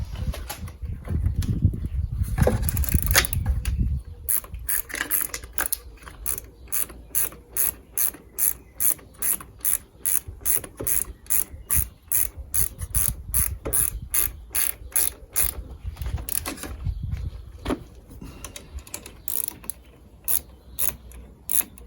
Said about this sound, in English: So I'm just going to tighten these nuts up from there a bit.